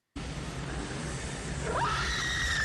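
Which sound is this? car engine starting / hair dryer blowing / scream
scream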